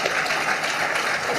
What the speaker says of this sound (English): You're supposed to clap for that